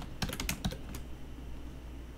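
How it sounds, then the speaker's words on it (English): A computer keyboard clicks in a brief burst of about half a dozen close keystrokes, then falls quiet over a low room hiss. "click and type in your name."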